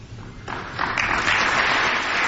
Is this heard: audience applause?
yes